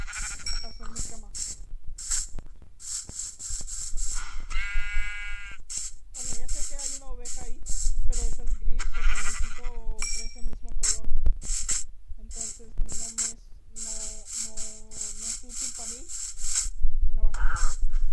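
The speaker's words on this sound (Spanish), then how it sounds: "A ver, hay unas ovejitas." Sheep bleat repeatedly in a video game, several wavering cries spread across the stretch between game sound effects, with a person talking over parts of it.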